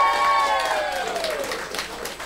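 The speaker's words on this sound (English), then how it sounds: "give a big round of applause" Audience applause and light cheering for a singer's performance, a steady burst of clapping from a crowd that tapers off over about two seconds.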